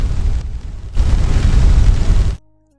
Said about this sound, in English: Oh no, I got hit by missiles.